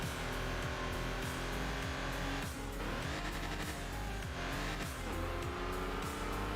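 A Honda Insight in the racing game Enthusia revs hard in first gear, bouncing off the rev limiter in rapid repeated surges and cuts, loud and continuous with no talk.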